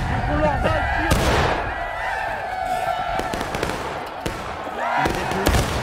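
Musket volleys in the video game War of Rights, a run of sharp gunshot cracks at irregular intervals, several loud near bursts over steady battlefield din, with voices calling out between shots.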